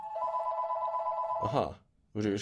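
An indoor telephone rings with a sustained electronic tone, steady and fairly loud, then cuts off as voices speak nearby.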